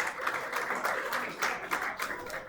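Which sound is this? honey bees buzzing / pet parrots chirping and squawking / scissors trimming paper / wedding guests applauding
wedding guests applauding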